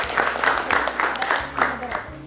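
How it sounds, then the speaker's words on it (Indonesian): Brief applause from an audience at a junior high school farewell event, with scattered hand claps over a background of voices. "Tepuk tangan dong buat kita semua"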